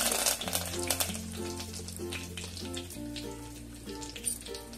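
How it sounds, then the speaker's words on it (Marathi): Cumin seeds and curry leaves sizzling in hot oil, a dense crackling fizz with scattered pops, close and steady, while music plays underneath. "जिरे छान फुडले. थोडासा कढीपत्ता घालू."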